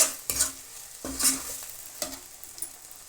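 Green chilli masala sizzles in a pan while a spoon stirs it in about three distinct scraping strokes, each stroke briefly louder over the soft, constant frying hiss.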